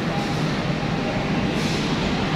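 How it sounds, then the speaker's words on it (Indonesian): A train arriving at a station platform rumbles past loudly with a dense, steady roar of wheels and rushing noise, close by and continuous. "Ini keretanya."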